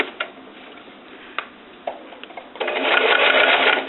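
A sewing machine runs along the fabric edge of a clutch bag, basting it in place: a few soft ticks and clicks, then a steady, close whirring run that builds near the end.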